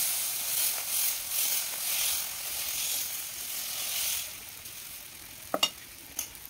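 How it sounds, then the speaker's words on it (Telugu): Dosa batter spread on a hot griddle, a steady close hiss of sizzling that swells and fades slightly as the ladle moves, followed by a few light scraping taps near the end. "వేడెక్కిన పెనం పైన తగినంత పిండి వేసుకోవాలి."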